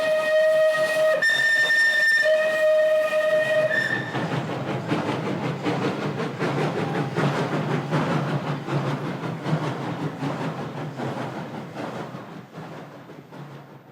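A steam whistle sounds at the start, then a wood-burning steam locomotive in Paraguay chugs with rhythmic puffing and hiss, gradually fading as it moves away.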